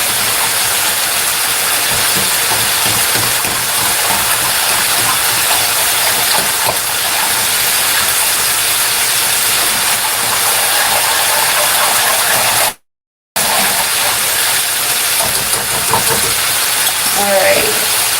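Gravy being whisked in a pan as it heats toward a boil, giving a steady, loud bubbling sizzle with scraping stir sounds throughout and a brief dropout partway through.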